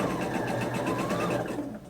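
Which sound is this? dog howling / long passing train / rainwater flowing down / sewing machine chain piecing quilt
sewing machine chain piecing quilt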